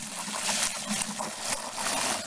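Water pours steadily from a gallon jug into a bucket of car wash pre-cleaner mix, a continuous close splashing trickle lasting a couple of seconds.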